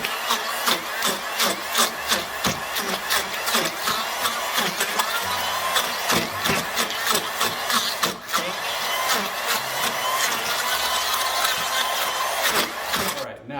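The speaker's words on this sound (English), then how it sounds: "We're gonna now puree up the chickpeas," A blender purees chickpeas, onions and other hummus ingredients with a steady, loud motor whir that runs throughout with pulsing variations.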